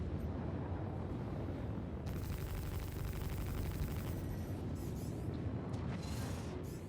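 A Freelancer ship blows apart in Star Citizen space combat, a loud sustained roar of explosion and debris that rumbles steadily for several seconds with no talking.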